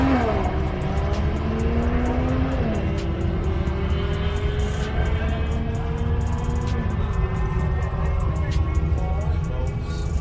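A Chevrolet Camaro drives past a spectator area at a car event, its engine a loud steady roar with rising and falling pitch as it moves, continuous throughout.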